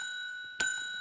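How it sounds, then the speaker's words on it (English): A bell mounted on top of a costumed character's head gives a single bright, close ding that rings on with sustained metallic overtones against a quiet background. "You see how he's got that bell right there on the top of his head?"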